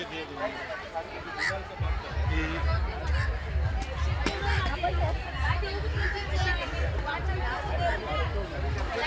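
Dense crowd chatter at Sassoon Dock fish market in Colaba, a steady close babble of many overlapping voices with footsteps and bustle throughout.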